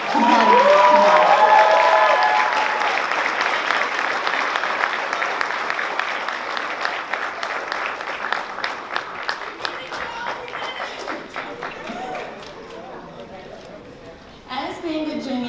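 Loud crowd applause for competitors at an evening competition event, dense clapping that swells early, gradually thins and fades, then briefly picks up again near the end.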